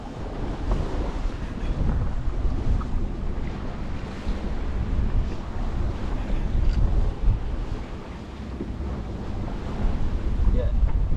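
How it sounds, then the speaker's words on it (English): Strong wind of about 18 knots gusting across a sailboat at sea off Scotland, a loud continuous rush with buffeting microphone noise and waves washing against the hull, rising and falling in surges. "it's now 18 knots of wind, and it's gusting maybe 20 tops."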